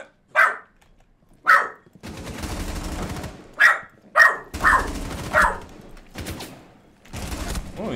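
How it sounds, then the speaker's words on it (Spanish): A dog barking in a room during Rainbow Six Siege gameplay: sharp, high-pitched barks come in a loose series, some alone and others over bursts of in-game gunfire. "sé que los ladridos son muy agudos"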